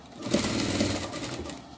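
A sewing machine runs in a short, close, steady burst of rapid stitching as a lined dress for a Shih Tzu is turned and sewn, with no talking.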